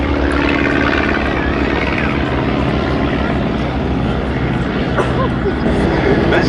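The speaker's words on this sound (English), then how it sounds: "fairly leaping into the air, the first of the two Fokker DR-1s" A Fokker Dr.I triplane takes off at a summer air show at Duxford, its engine and propeller droning loud and steady throughout while an announcer talks over the noise.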